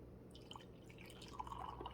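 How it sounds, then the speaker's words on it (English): Coffee pours from a Hamilton Beach coffee maker carafe into a cup, a faint trickle with soft drips and splashes over low background hum. "Let's see how it pours."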